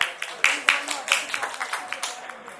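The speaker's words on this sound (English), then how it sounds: "So welcome them with a round of applause." Scattered clapping from a small crowd, a few sharp claps then a brief patter of applause, fairly faint.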